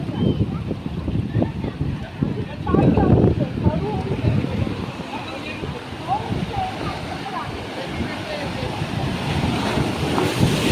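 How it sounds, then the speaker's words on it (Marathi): Waves crash and wash onto the shore nearby with a steady roaring surge and wind buffeting the microphone, with brief voices and laughter in places. "मोठी लाट येते मोठी लाट येते थोडा पाठी थांबूया आपण"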